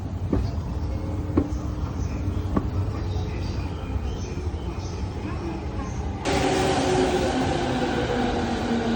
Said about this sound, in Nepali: गाइस फाइनल्ली ट्रेन पनि आयो।